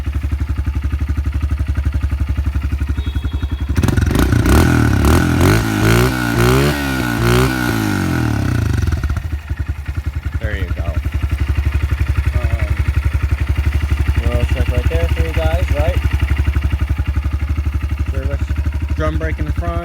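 A 2022 Honda CRF125F dirt bike engine starting up and settling into a loud, close, steady idle, with a short burst of revving after it fires, and someone talking over the running engine.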